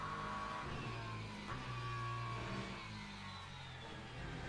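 A hypercar races at Silverstone, its engine droning at a distance with a steady, slightly wavering pitch as it holds speed, fairly faint against open track ambience.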